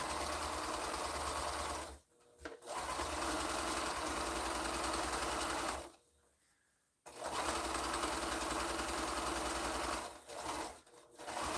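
Sewing machine stitching a quilt block, a steady fast mechanical whir running in long bursts with brief pauses between them, close and alone.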